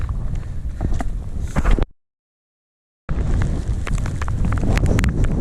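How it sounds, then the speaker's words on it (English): Strong gusting wind buffets the microphone while climbing Lowther Hill, a loud broadband roar that cuts out briefly to silence and then resumes just as hard. "we're climbing Lowther Hill and the wind is really bad"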